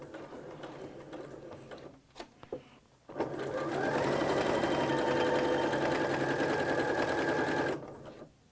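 A sewing machine stitches a placemat, starting with a few halting taps and short bursts, then a steady loud whirring run of rapid needle strokes that stops abruptly, with a reverse back stitch along the way.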